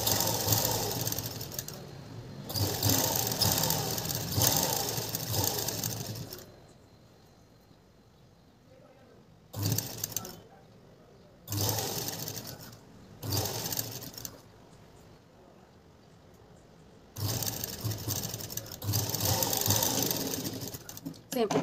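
A sewing machine stitching the lining of a blouse, heard as several bursts of steady mechanical whirring separated by quiet pauses, with speech in between the runs.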